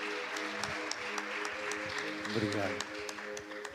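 Church congregation in Brazil applauding during a service, a continuous spread of clapping with a low sustained tone beneath and a voice speaking briefly over it.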